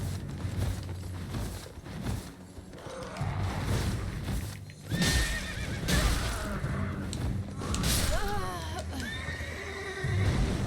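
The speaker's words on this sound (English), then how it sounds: "Shouldn't blame the horse." A horse in the video game Elden Ring neighs and whinnies repeatedly, loud and close, over clip-clopping hooves and mechanical game effects.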